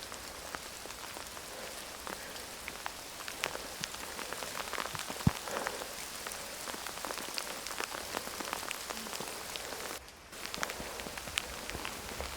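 Steady rain pattering on the ground and foliage along the Kendrick Peak trail on a mountain, a dense close hiss of drops with occasional louder taps, no voices.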